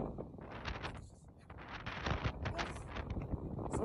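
Wind gusts buffet the microphone during a whiteout blizzard at 10,000 feet in the mountains, an uneven rumbling roar with rustling bursts, close and unsteady.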